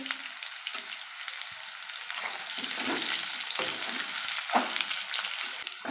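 Potatoes sizzle and crackle steadily in a pan of hot oil while aloo dum is cooked, a close, continuous frying hiss with occasional stirring clicks and pops and no talking.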